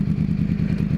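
A sportbike engine idles and revs as clutch and throttle are worked, giving a close, steady low-pitched rumble over one continuous second.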